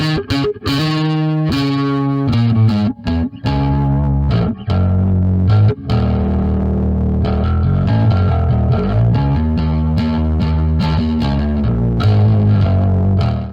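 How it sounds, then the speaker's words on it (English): Bass guitar through the Bassgrinder distortion plugin with its crush control at zero, still heavily driven and gritty, a loud continuous riff of sustained and quick notes with no talk. "Now with crush lowered all the way down to 0,"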